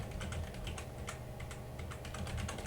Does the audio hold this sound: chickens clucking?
no